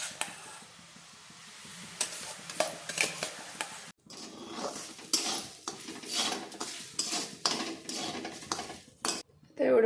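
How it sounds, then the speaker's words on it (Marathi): Bhagar roasting in ghee in a pot, stirred with a metal spoon that scrapes and clinks repeatedly against the pan over a soft sizzle, close and fairly quiet. "ही भाजून घ्यायची तूप टाकून"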